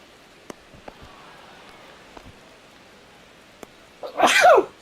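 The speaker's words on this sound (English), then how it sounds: "that 4th of July sneeze" A single sharp sneeze from the commentary of the baseball video game MLB The Show bursts out near the end, loud and close, after a few seconds of quiet room noise and faint clicks.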